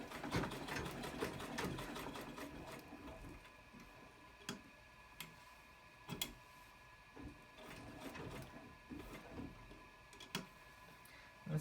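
A serviced, freshly oiled 1980s Janome treadle sewing machine stitches steadily at a longer stitch length, giving a smooth, even mechanical whir punctuated by sharp periodic ticks and clicks, close and fairly quiet with no talking.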